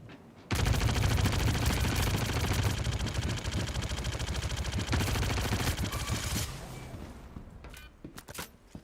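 A .22 weapon in a video game fires a long, unbroken stream of rapid shots for about six seconds, loud and close, followed by a few scattered single cracks.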